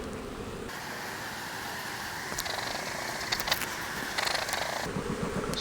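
A dense swarm of honeybees hums continuously close by as a beekeeper works clumps of bees into a hive during a split. The drone is steady, with a few brief clicks and rustles layered over it.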